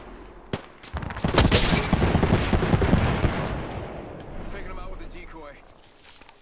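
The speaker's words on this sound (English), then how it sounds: "Let's just keep shooting at them." Video game gunfire erupts during a team battle, a dense, loud string of rapid shots that peaks and then tapers off, with players' voices mixed in.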